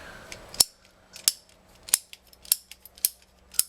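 PVC condensate drain pipe is cut in two with a pipe cutter, giving a series of sharp, crisp snapping clicks at irregular intervals, close and clear with no talking.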